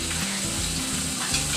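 Small rava-coated rawas fish, dusted with masala-spiced semolina, frying in hot oil: a steady, dense sizzle that runs unbroken and fairly close throughout, with no voices.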